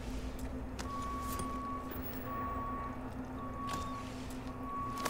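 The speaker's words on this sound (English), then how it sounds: "because that just sounded like a truck backing" A truck reverses outside, its steady reversing beeps repeating at a slow even rhythm, faint and distant beneath a low engine hum and background rumble.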